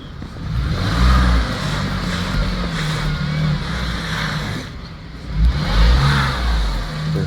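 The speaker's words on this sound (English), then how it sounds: "Look at the wheels. They're spinning." A car's engine revs hard as its wheels spin out in a snowstorm, with surging waves of revving that rise and fall. It sounds close and fairly loud, with no talk.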